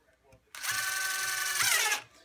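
A Dewalt DCF887 impact driver spins at speed 2 into pine, a single loud burst of about one and a half seconds with a steady buzzing whine that rises near the end, then stops abruptly.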